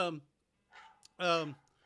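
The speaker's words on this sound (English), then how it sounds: "you can hear the dog barking while I'm talking" A dog barks in the background during a phone call, giving two or three short, fairly faint barks separated by quiet gaps.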